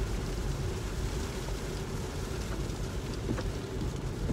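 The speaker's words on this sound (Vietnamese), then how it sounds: "Now it's raining hard." Heavy rain pours down in a steady, dense, even hiss that lasts the whole time, with no voices.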